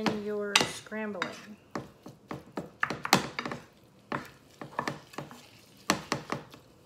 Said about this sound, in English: And then begin your scrambling.